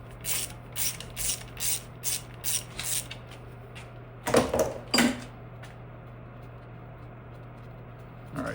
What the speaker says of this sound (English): Now we should be able to get in here with a regular ratchet.